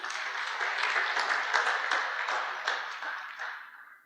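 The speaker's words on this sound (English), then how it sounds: "So let's give him a nice round of applause." A conference audience at a no-till farming awards evening claps steadily for several seconds, a dense even patter of many hands that tapers off at the end.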